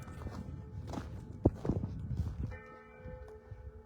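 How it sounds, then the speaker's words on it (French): Church bells ring out before Mass in the Cévennes with steady, sustained tones after a few footsteps and shuffling, sounding somewhat distant and echoing. "les cloches"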